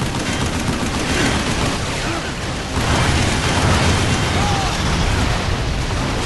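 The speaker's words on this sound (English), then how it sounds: "Heavy machine gun." Heavy machine gun fire in the video game Vanquish comes as a loud, dense, unbroken roar of shots and blasts, steady throughout.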